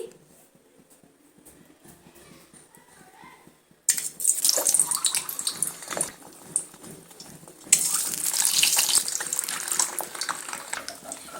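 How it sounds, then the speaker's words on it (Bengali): Boiled eggs, scored with a knife, drop into hot oil in a pan for a Bengali egg posto dish, setting off a loud, steady sizzle that jumps up in two stages as more eggs go in. "তেল গরম হয়ে গেছে এবার আমি একে একে ডিমগুলো দিয়ে দেব"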